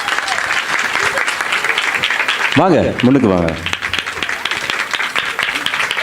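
An audience applauds a dance choreographer on stage at a Tamil dance performance, steady clapping from many hands that continues while someone speaks briefly over it in the middle.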